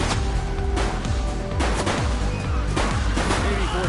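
Rapid gunshots in the police game The Precinct crack out in a quick repeated volley of sharp, loud bursts over dense low rumbling game audio.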